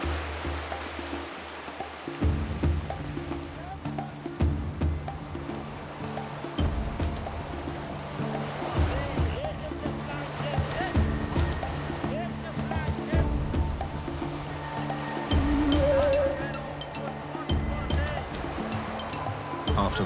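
Strong river current and rapids in Madagascar, on a river where men transport wood, make a continuous loud rush of churning water, with voices talking over it throughout.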